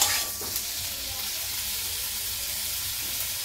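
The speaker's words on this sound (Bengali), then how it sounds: "পেঁপেটা কিন্তু আমি লবণ হলুদ দিয়ে ভাজা করে নেব" Papaya pieces fry with salt and turmeric in a pan, giving a steady hissing sizzle that stays even throughout, close and moderately loud.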